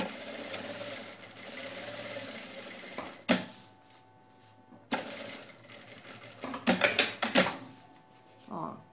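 A sewing machine stitches up the side of a fabric sack bag in close, steady whirring runs, stopping and restarting with sharp clicks and clunks of handling between the bursts.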